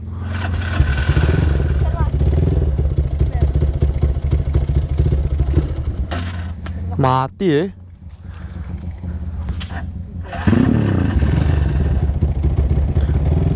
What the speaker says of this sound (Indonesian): Geberan yang sangat mematikan sekali guys.